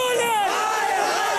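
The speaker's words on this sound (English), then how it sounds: "The crowds are swelling, and so is the anger." A dense crowd of protesters in India shouting and chanting together, a loud continuous roar of many voices with rising and falling cries, close and unbroken throughout.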